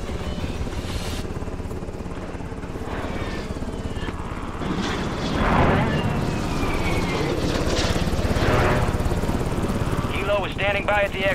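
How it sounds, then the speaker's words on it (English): Extraction helicopter arriving in Modern Warfare III Warzone, its rotor chop and engine drone running loud and continuous, swelling as it draws near, while radio voices talk over it. "Extract helo is inbound now."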